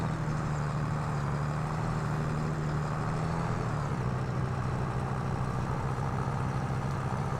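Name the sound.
Landini tractor engine idling, from video game Farming Simulator 22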